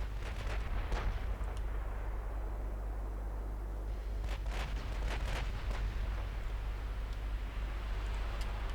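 Naval shells striking the battleship Missouri in a 1950s-era Ultimate Admiral Dreadnoughts engagement, heard as a series of distant, muffled booms and cracks over a steady low rumble of battle noise.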